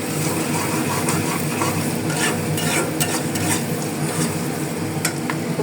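Fish frying in a hot pan, a loud continuous sizzle close by with frequent scraping and stirring clicks of a utensil against the pan throughout.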